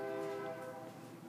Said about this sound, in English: Lots of trains tonight.